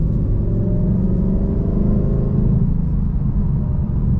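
A supercharged Ford Mustang RTR Spec 3 with a Whipple blower pulls away gently in light traffic, its engine giving a steady, loud low rumble heard from inside the car, with no talking.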